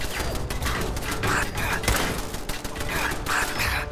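Gunfire from a weapon in Fallout 4, a dense, continuous burst of rapid, loud shots with thumping low-end impacts, sustained throughout and close up.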